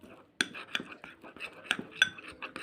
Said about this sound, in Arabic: هحط معلقه من اللبن اهو كده، ونخلط المكونات دي كلها مع بعض